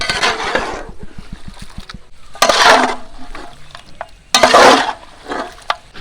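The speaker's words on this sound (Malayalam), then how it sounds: "അടുത്തത് നമ്മുടെ ആ ഒരു മസാല പൗഡർ ഇടലാണ്" Masala powder is stirred into a large batch of frying goat biryani masala, cooked for an orphanage. Loud, scraping stirring bursts come in three waves over a sizzling pan, close up.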